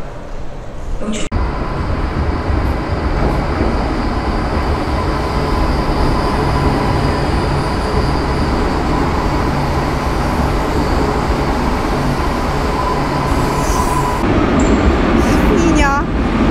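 An EP07 or EP08 electric locomotive hauls a train through Wrocław with a loud, continuous rolling rumble and steady rail noise throughout, and a sharp click near the start.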